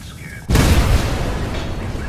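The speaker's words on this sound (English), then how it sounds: "I just heard the explosion in the background" A sudden loud explosion booms in the video game Watch Dogs after a quiet moment, followed by a rumbling roar that slowly fades but stays heavy to the end.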